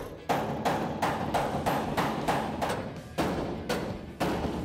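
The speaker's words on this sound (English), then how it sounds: "I think if we do a little hammer and chisel action, we'll be able to get that to fit." Hammer and chisel striking metal on a 1968 Chevrolet C10 truck, about eight to ten sharp evenly spaced blows close by, each with a brief ringing decay, no talk.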